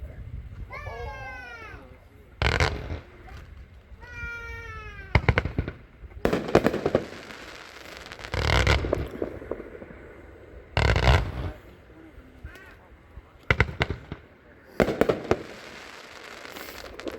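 Consumer fireworks cake, a 90-shot Make America Boom Again, firing repeated loud bursts in irregular clusters outdoors, with rising whistling tails between some shots and faint background voices.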